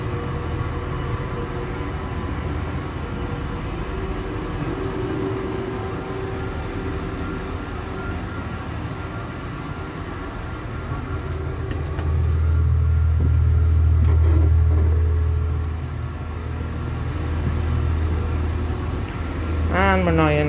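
Rumbling inside a moving train carriage, one of three new carriages on a 4000-class train at Great Victoria Street, with continuous wheel and track noise that swells midway; a voice talks over the rumble.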